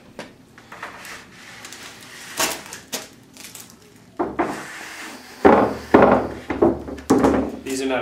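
Wooden bridges being fitted to a piano, with a series of sharp knocks and thunks on wood. The blows come in irregular clusters and grow louder toward the end.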